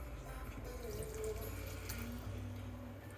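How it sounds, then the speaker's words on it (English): About two cups of water pour steadily into a pot of couscous with a continuous gurgling splash, close and moderately quiet. "We're going to add roughly 2 cups of water to this"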